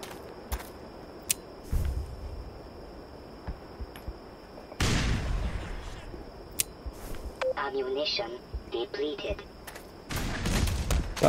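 A grenade detonates in the Black Mesa video game, a sudden broadband blast that rumbles and decays among other sharp gunfire-like bursts and scattered electronic game sounds.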